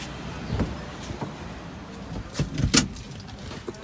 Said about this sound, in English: when we give the ignition, we put the key and give ignition. The mirror will be open